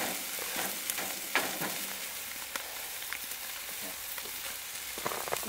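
Sausages sizzle and crackle steadily on an outdoor grill, a close, continuous hiss broken by small pops and scraping sounds, with no talking.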